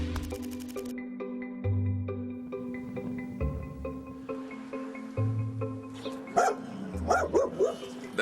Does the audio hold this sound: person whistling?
no